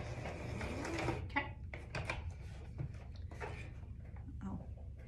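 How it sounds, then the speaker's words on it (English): A sewing machine backstitches a short run at the tip top of a child's hat, giving a close, dense mechanical whirr with rapid stitching texture that starts and stops briefly over roughly five seconds. "So now I'm stopping, I'm at a quarter of an inch. And now I'll back stitch."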